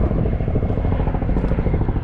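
A helicopter passes in the background with a steady, throbbing rotor chop, loud and continuous through the whole moment.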